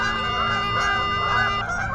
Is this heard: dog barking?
no